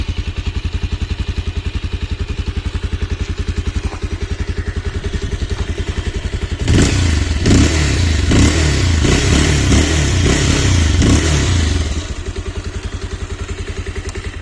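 A Bajaj Pulsar 220F motorcycle engine idles with a steady, rapid low thump through its stock exhaust, then is revved louder and rougher for several seconds before dropping back to the same even idle, with no talking.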